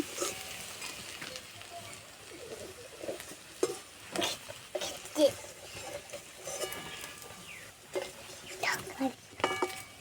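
Pakoras made from whole masoor lentils sizzle and crackle softly in hot oil, with occasional stirring scrapes and clicks, close but faint.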